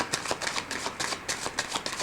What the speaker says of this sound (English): I'm going to put one more shuffle and one more rifle.